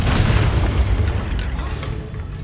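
Deep, rumbling blast from the Bombarda explosion spell in the Hogwarts Legacy video game, a loud low boom that rolls on and slowly fades, with no voices.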